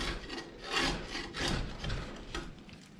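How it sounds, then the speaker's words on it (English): Scraping grime off old parts from a 1992 Ford F150 pickup truck, heard as a series of rough, rasping strokes that swell and fade in an irregular rhythm, close by and moderately loud. "I'm going to scrape some of this junk off"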